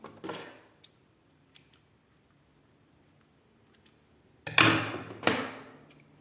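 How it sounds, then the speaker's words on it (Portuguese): Scissors trim thread ends close to a zipper on a sewn cosmetic pouch. A few faint snips come first, then two loud, close cuts near the end, with no talk. "eu vou cortar as sobrinhas, essas sobrinhas que estão bem rente ao zíper"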